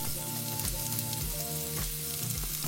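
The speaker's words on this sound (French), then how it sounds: "On fait revenir nos carottes." Carrots sauté in hot oil in a pan for Korean kimbap, giving a steady, close sizzle with crackling bursts and faint stirring throughout, no voices.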